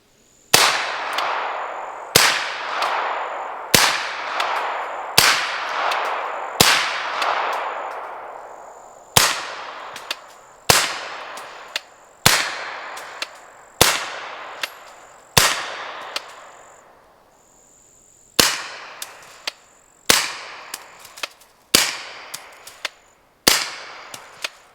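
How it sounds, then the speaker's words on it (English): A New Frontier C-5 build rifle fires about fifteen sharp, loud shots into dirt roughly 100 yards away, each crack trailing off in a ringing decay, some in quick succession and others spaced a few seconds apart. "hopefully you actually get a better representation of what this gun sounds like"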